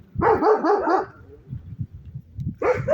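A dog barks several times in a quick burst nearby, followed by quieter whimpering and shuffling, then another bark.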